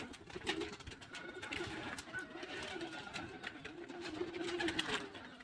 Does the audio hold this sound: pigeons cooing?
yes